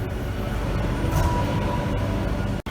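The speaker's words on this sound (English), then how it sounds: "We ride the train until Nuevos Ministerios station" Interior of a Madrid Metro train in motion, a steady rumbling roar of wheels and motors with faint rattles and one sharp click near the end.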